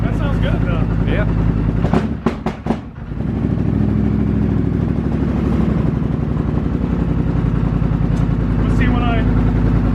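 A 2020 Polaris Sportsman 850 HighLifter ATV fitted with a Big Gun EVO U exhaust idles loudly, with a brief gap or dip before the engine settles into a steady rumble again. People talk over the engine.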